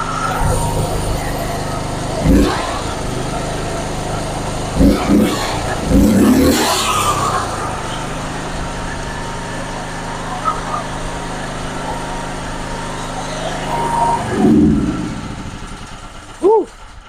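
A backup generator engine runs steadily after a carburetor cleaning, a continuous close mechanical drone with a few brief rises as it is revved, while someone talks over it.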